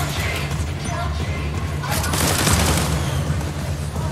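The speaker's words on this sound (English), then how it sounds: "Someone's shooting at me, guys." Loud, dense gunfire in the Fortnite video game, a sustained burst of overlapping shots with a swell in the middle, close and harsh with no talking.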